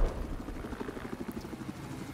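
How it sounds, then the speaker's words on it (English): A little bird helicopter in an 8vs8 match of a military video game on the Shanghai map, its rotor thumping in a fast, steady pulse at moderate distance, with no talking. "Will he be able to do anything with this helicopter?"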